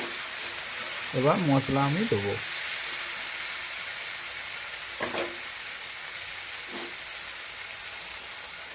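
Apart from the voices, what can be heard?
vegetables frying in a pan: beans, potato, eggplant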